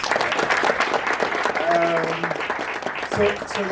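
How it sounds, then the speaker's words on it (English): A live audience breaks into a round of applause at an entrepreneurship talk, steady dense clapping filling the room with a few voices calling out over it. "Can we give a round of applause?"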